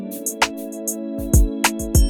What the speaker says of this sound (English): So if we put a major triad here,